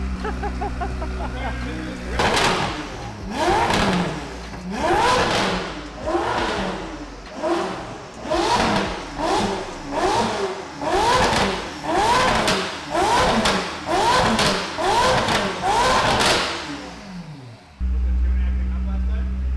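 A modified Lamborghini Revuelto being built for SEMA revs hard, its exhaust rising and falling in about a dozen sharp, loud pulses close by, then cutting off abruptly before a steady idle.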